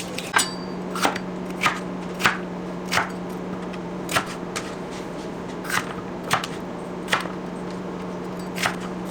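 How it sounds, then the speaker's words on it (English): Vegetables and garlic pushed through a manual kitchen vegetable chopper, producing a series of crisp, evenly spaced chopping clacks over a low steady hum. "I will put them through my vegetable chopper, ready to go in no time"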